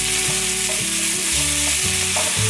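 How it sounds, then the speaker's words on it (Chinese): Shredded cabbage stir-fried in a wok with hot oil, continuous close sizzling broken by rhythmic scraping and tossing strokes of the spatula, no voices. "不断的翻炒高丽菜"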